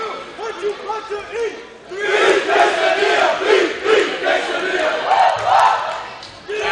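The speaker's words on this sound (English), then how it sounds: "quesadilla cheer from the fans below us" Fans in the stands at a varsity girls' basketball game against McDonell break into a loud, rhythmic group chant and cheer after a few quieter calls. The voices are close and sustained, and a few individual shouts stand out.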